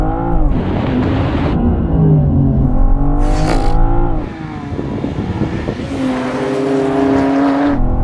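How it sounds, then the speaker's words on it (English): BMW M4 and M440i accelerating hard in a drag race, loud engine roar climbing through rising gear pulls with brief drops at each shift, continuous and close throughout. "let's go on with this race, shall we? Oh, great off the line there."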